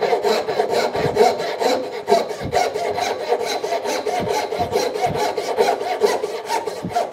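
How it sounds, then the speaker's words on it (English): A small rip saw cuts straight down through wood by hand for a beginner three-legged stool. Its rhythmic back-and-forth strokes rasp steadily and close up with no talk. "Now I'm going to be using a kind of a good little rip saw here."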